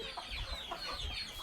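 Hens clucking at a poultry farm, faint scattered clucks heard at a distance over a noisy background, with no talking.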